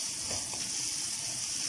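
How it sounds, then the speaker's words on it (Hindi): Water poured into a pot of cooking dal mash with tomatoes and spices, a steady hiss and trickle with faint sizzling, close and continuous, no talk. "और साथ ही हल्का सा पानी डालें।"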